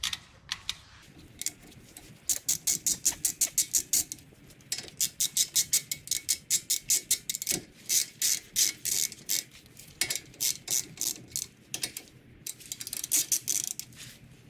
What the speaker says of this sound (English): take your ratchet and snug them down